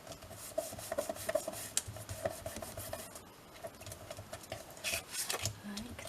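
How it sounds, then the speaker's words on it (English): Glued kite paper is rubbed down by hand, a soft scratchy rasping of uneven strokes close to the microphone, fairly quiet throughout. "rub it down"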